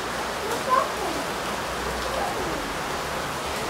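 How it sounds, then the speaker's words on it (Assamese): Steady rain falls outdoors, a dense continuous hiss of drops on surfaces, close and even with a faint bump near the start. "বৰষুণ দি আছে"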